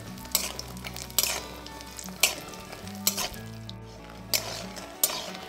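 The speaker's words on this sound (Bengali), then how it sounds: "মিডিয়াম ফ্লেমে বড়িগুলো হালকা লাল করে ভেজে নিতে হবে।" Bori lentil dumplings fry in mustard oil over a medium flame, a steady close sizzle broken by several sharp scrapes and clinks of a stirring spoon against the pan, with a low steady hum underneath.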